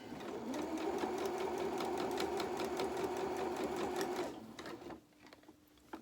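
A sewing machine runs close by in a steady, fast stitching drone as it sews fabric with pom-pom trim. The seam is guided with an awl. The machine slows and stops near the end, leaving faint, quiet handling sounds.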